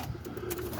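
A roller pigeon coos softly inside a loft housing an older hen and young birds, a low steady murmur running through the short moment with faint background rustle.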